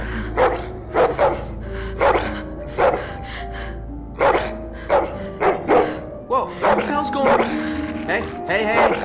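A dog in The Walking Dead video game barks repeatedly in loud, sharp bursts, some yips and growls mixed in, with a character speaking between the barks.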